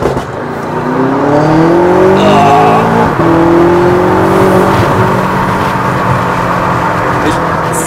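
A BMW X6M rated around 800 hp pulls hard along a highway with the windows open, its loud engine note rising in pitch through the gears over heavy wind and road roar, close and continuous throughout.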